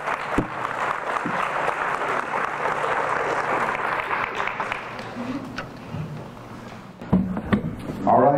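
A round of applause for the competing teams at a high school quiz show, dense clapping that thins out and fades after about five seconds, followed by a few scattered claps and small noises.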